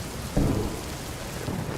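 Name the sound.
heavy rain with thunder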